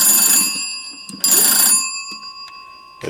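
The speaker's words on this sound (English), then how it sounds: "I'm going to crank the ringer on this one. And both phones are ringing." Two vintage magneto telephones ringing together as the crank ringer is turned, bright metallic bell peals in bursts with sustained ringing tones fading between them, no voices.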